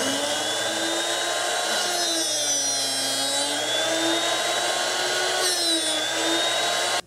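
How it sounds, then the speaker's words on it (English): A Drill Doctor sharpener grinds a drill bit with a steady, continuous whine and faint wavering tones that hold at an even level, then stop abruptly at the end. "you can hear the sound of it actually grinding, what it actually sounds like"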